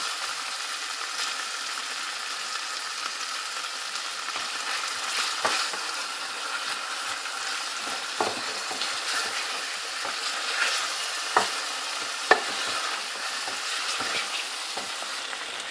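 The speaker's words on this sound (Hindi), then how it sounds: "इसको मैं भूनूंगी और साथ ही मैं दही भी डाल दूंगी" Korma masala and coriander powder fry with yogurt in a pan for a chicken and chana dal dish, giving a steady close sizzle with occasional soft stirring clicks.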